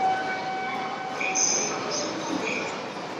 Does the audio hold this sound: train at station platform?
yes